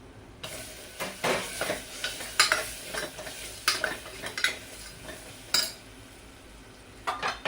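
Tomato going into a spiced, chilli-laced ivy gourd khichdi that sizzles steadily in the pan, with a ladle scraping and stirring in repeated close, sharp strokes over the continuous frying hiss.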